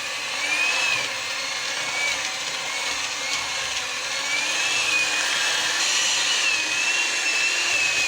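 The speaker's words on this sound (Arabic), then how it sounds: "كده ضربنا الزبدة بتاعتنا والسكر" Electric mixer beating room-temperature butter and sugar for simple cookies, a steady close motor whine with a faint high tone rising and falling, running alone without talk.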